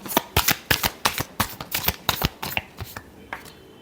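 Tarot cards shuffled close up in a quick series of about a dozen crisp riffling slaps, evenly paced then tapering off, fairly quiet with no speech over them.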